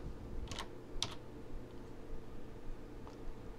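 A few quick keystrokes on a computer keyboard, two short bursts of soft clicks followed by a fainter single tap, close and quiet over a steady background hiss.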